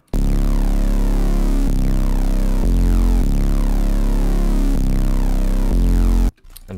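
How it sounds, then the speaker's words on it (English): A loud, deep synth bass plays a simple pattern that follows the bass line of a trap beat, with sustained notes changing every second or so and a heavy low end, alone until it stops near the end. "Okay, this bass sounds like this,"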